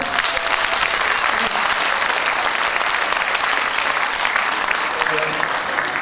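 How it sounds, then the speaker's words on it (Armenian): A concert audience at a Garegin Nzhdeh commemoration applauds the regional governor, a loud, dense and steady roar of clapping from a large crowd that lasts the whole stretch without a break. "եկեք ծափահարենք իրեն"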